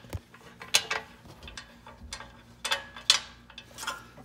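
A 9/16 socket wrench ratchets against the center bolt on a Scag mower, giving sharp metallic clicks and clacks in irregular short bursts, close up and alone.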